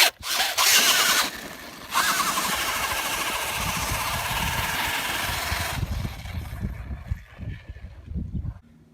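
A DHK Maximus RC car's small motor whirs and revs loudly, then settles into a rough, grinding mechanical rattle with uneven knocking from a faulty front differential, fading toward the end.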